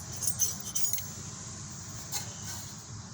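Metal clinks and jingles from a 14mm wrench set being handled during rear brake pad work on a 2007-2017 Toyota Camry, a few light taps early on, then quiet with a low rumble underneath.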